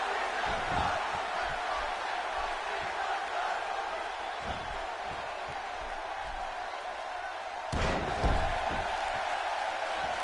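Wrestling arena crowd in the video game WWE 2K16 cheering in a steady, moderate murmur of noise, with a few thuds and a sharp slam-like impact near the end.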